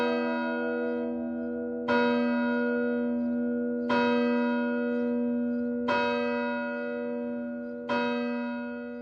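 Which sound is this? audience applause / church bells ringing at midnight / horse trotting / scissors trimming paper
church bells ringing at midnight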